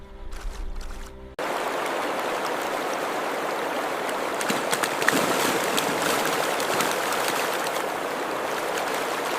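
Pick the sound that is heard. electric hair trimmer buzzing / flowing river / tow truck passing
flowing river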